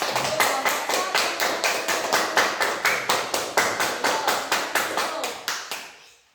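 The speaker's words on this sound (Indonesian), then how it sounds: "Beri tepuk tangan." A classroom of schoolchildren clapping in a steady, rhythmic unison beat, about four claps a second, close and bright, then stopping abruptly at the end.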